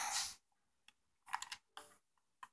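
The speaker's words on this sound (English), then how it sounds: "now I'm gonna go ahead and type in a MAC address" Computer keyboard typing as a MAC address is entered: a few separate short bursts of key clicks, close and clear, with silent gaps between them and no talking.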